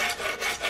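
File-backed sandpaper scrapes across wood and metal in short back-and-forth strokes, a close, harsh rasping that rises and falls about three times in quick succession.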